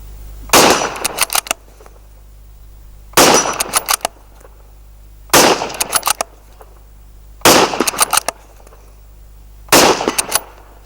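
Five loud, sharp rifle shots from a Tikka T3x Lite Stainless chambered in .223 Rem, spaced roughly two seconds apart, each with a brief crackling echo tail and no talking.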